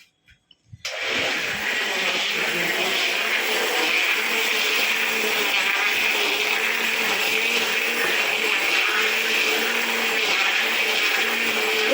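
An electric kitchen mixer churning homemade mango pulp into juice clicks on after a few faint knocks and runs as a loud, steady, high-pitched whirring drone right up close for the rest of the time, with no speech.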